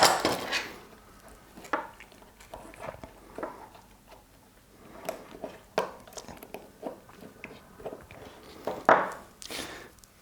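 Fitting a pulley onto the X-axis motor of a Prusa MK3 3D printer gives a scattered series of small, close plastic and metal clicks and taps over about ten seconds, with quiet pauses between them.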